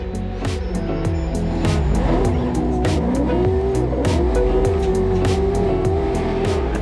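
A race truck with Mickey Thompson tires and King shocks tears around the loose dirt track at Glen Helen, its engine revving loudly and rising and falling through gear changes, with tire squeal and scrabbling close by.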